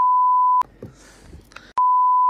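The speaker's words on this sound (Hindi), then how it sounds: "ट्यूशन के बच्चे का फोन है।" An incoming call sets a mobile phone ringing with a steady, loud electronic beep tone at the start and again at the end, separated by a brief stretch of muffled background noise.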